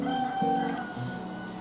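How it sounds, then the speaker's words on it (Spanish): A rooster crows at sunset in Havana, one moderately loud call rising and trailing off over a steady background hum, with no talking. "con el cantar del gallo más perdido de Cuba, que confunde el atardecer con el amanecer"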